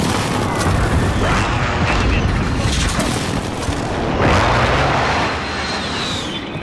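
A frag grenade bursts in the Call of Duty: Modern Warfare video game, a loud booming blast swelling within a constant roar of battle noise and gunfire, with shouted voices in the mix.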